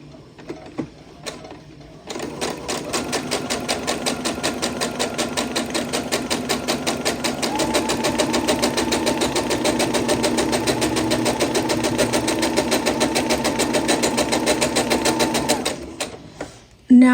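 A sewing machine stitches quilt pieces for an Eccentric Star block at stitch length 2 with Oracle thread, running in one steady, loud, rapid rhythmic burst of about thirteen seconds before stopping.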